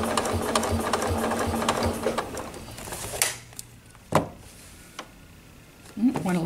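A sewing machine stitching along a previously double-stitched line on a table runner during ruler work, running in a fast, close, rhythmic whir that stops midway, followed by quieter taps and a pigeon cooing in the background.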